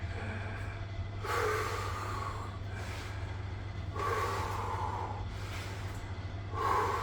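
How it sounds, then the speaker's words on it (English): Slow, deliberate breaths in and out through the mouth and nose, three audible airy breath cycles close to the microphone over a steady low hum. "breathing in through your mouth and your nose, and breathe out through your mouth and your nose"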